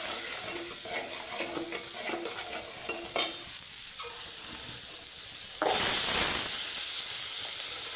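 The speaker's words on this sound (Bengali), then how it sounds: "সব মশলাপাতি দিয়ে এখন কষিয়ে নিচ্ছি চিংড়ি মাছ দিয়ে" Shrimp and spices being sautéed and stirred in a pan, a soft sizzle with scraping stirs, then a sudden louder hiss and sizzle burst near the end.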